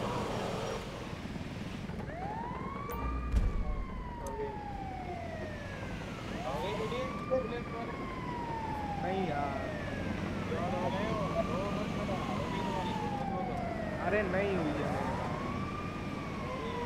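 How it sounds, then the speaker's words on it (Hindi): An ambulance siren in the video game GTA 5 wails in repeated rising-and-falling sweeps, about every three seconds, over a low engine rumble and faint background chatter. "आ गया मैं भी एम्बुलेंस पे।"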